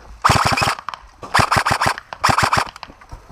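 A gun set to semi-auto runs away into full auto during a dusk firefight, firing three loud, close, rapid bursts of sharp cracks separated by short pauses.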